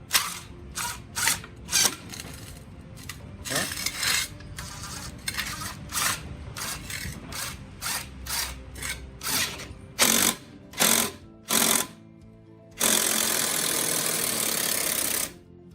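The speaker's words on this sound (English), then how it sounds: "Take my drill and let's see how long it takes" A cordless drill drives a scissor jack adapter to raise a stuck car out of mud, giving a close mechanical whirring and ratcheting in repeated short bursts, ending in a longer continuous run.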